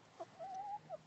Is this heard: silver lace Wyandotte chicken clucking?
yes